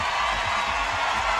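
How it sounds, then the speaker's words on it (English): A crowd at the 2016 CrossFit Games cheers on a woman attempting a 215-pound squat clean, a continuous roar of voices with whoops, fairly loud and sustained. "this crowd is going to try to give her as much energy as possible as she stares down 215 pounds"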